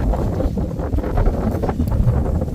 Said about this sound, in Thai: ลมพัดเย็น